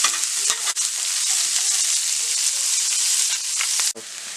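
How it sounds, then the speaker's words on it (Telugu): Curry leaves, chana dal and onion frying in a pan for spring onion egg bhurji, a loud, dense crackling sizzle held throughout, with brief dips and a spatula scrape, close up and alone. "ఇందులోనే ఒక ఆనియన్ వేసుకొని ఫ్రై చేసుకోవాలి."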